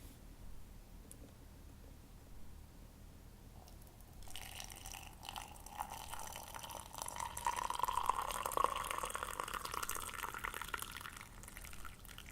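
Boiled water pours from a kettle into a tea cup holding tea, starting after a few quiet seconds and running as a close, continuous splashing stream whose tone rises as the cup fills.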